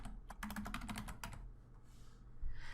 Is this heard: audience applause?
no